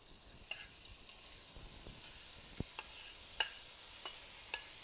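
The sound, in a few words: chicken sautéing in oil in a pan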